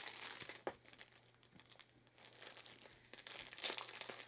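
Small plastic zip-top bags holding diamond painting pieces crinkle and rustle close by, with scattered crisp crackles and a busier burst of handling toward the end, no talk.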